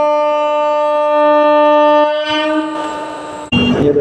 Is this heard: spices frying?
no